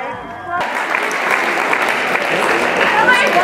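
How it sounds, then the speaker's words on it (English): An audience breaks into sustained applause at an alpine ski event after a run ends at the finish; a voice is heard briefly before the clapping starts, then the steady applause fills the rest. "Big round of applause for Eric."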